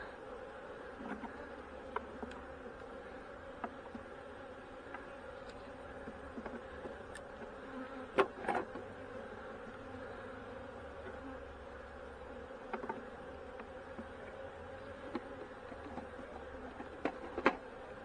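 Honey bees buzz around hive boxes during a split moved into a ten-frame box, a low constant hum with scattered sharp knocks and clicks of equipment, no speech.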